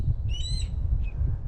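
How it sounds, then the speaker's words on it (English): A wild bird on a coastal marsh trail at Sandy Neck, Cape Cod, gives one clear, ringing whistled call, then a shorter, fainter note a moment later, both over a low, steady rumble of wind. "That's a beautiful bird."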